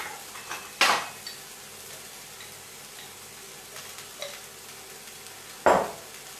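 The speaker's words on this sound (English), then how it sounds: "we want this peanut butter to melt in with the vegetables, so I'm just going to stir it around" Peanut butter stirred into vegetables in a pan, heard as two sharp utensil knocks against the pan about five seconds apart, with faint scraping and clinks in between and no talking.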